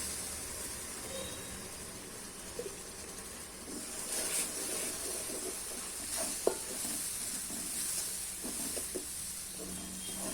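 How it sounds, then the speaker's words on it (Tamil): Quiet, steady sizzling and hissing as ground paste for tomato kurma is poured into a hot pan, with a few soft clinks and stirring sounds and no talking. "இப்போ நம்ம அரைச்ச அந்த பேஸ்ட் ஊற்றிக்கலாம்"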